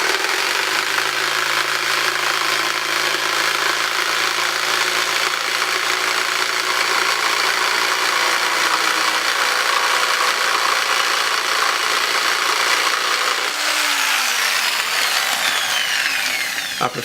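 A jigsaw cuts a wood block for a kitchen knife block, making a loud, continuous buzzing rasp that holds steady and then drops in pitch as the motor winds down near the end. No one speaks.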